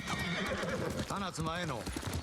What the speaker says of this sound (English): Game's prompting me to remember I have a horse.